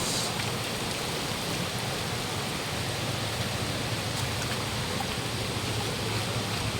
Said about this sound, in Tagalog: dito merong medyo maliit na falls. Yung mini falls.